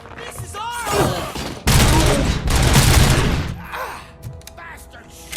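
Gunfire from the RoboCop: Rogue City video game, a burst of loud bangs and a sustained volley of shots up close, with a pained voice and other game sounds around it.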